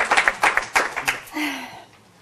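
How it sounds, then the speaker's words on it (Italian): Audience at a conference in Rome breaking into a short burst of applause, loud scattered claps fading out within about two seconds. "rifacciamo un applauso"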